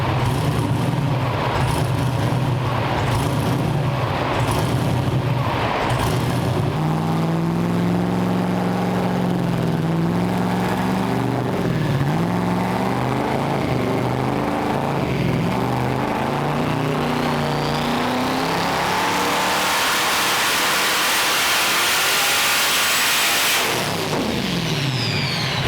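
Twin-turbo 427 engine on a dyno, running loud and sustained with rising and falling revs, then climbing to a high-rpm roar before cutting off near the end.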